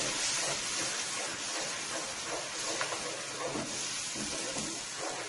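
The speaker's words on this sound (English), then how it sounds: "that's my masala frying up nicely into my oil there" Steady hissing sizzle of curry masala frying in hot oil, constant and fairly close, with a few faint pops.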